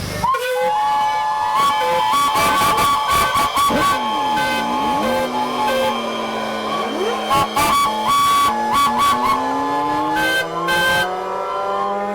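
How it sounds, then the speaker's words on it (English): Several steam engine whistles blown together at a steam rally, overlapping sustained shrill tones that bend and waver in pitch, loud and continuous with bursts of hissing steam. "if you would kindly sound your whistles on the count of 3"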